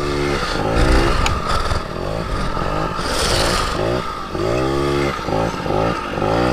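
A Sr 50 motard scooter engine revs repeatedly under the throttle, with loud, close, rising and falling two-stroke bursts and some rattling and scraping in between, and no talking.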